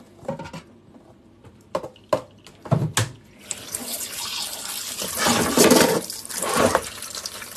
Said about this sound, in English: So I'm just going to quickly wash the fish